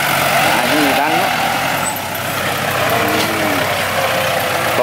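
At a landfill site a dump truck's diesel engine idles and strains loudly while a bulldozer pushes soil nearby, giving a steady mechanical drone with a brief hiss like an air brake, and someone talks over it.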